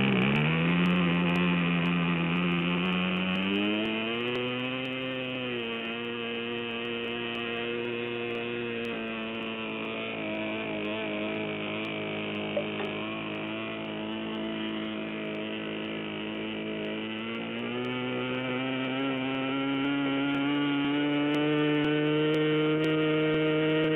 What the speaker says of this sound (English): With the engine running, we need to adjust the mixture to make sure that the engine is going to be reliable in the air